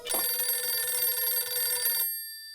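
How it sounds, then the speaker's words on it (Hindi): A telephone rings with a continuous bright electronic trill for about two seconds and then stops abruptly, heard alone and fairly faint in an indoor setting. "ये तो उसी नंबर से फोन आ रहा है"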